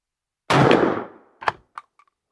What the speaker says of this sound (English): Remington 41 pellet number 4 buck out of our predator choke, Remington 870 Super Mag